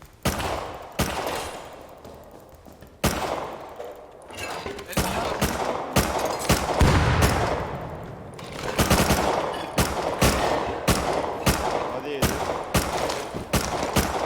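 Video game gunfire during a final fight in military tunnels: dense rapid shots and bursts, loud and close, going on almost without pause, with players talking over the shooting.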